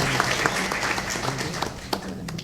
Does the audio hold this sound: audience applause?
yes